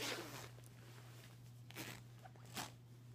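A clothing zipper is pulled in a quiet clothing-store roleplay: three short, soft zipping strokes near the start, middle and end, each a brief rasp over a steady low hum.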